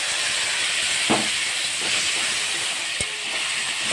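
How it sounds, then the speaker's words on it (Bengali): Thick spice paste of chili and turmeric hits hot oil in a pan while cooking tilapia with mango, giving a loud, steady hissing sizzle with a couple of faint clinks. "ভাজা ভাজা হয়ে গেছে, এবার দিয়ে দিলাম ওই গুলিয়ে রাখা মশলা।"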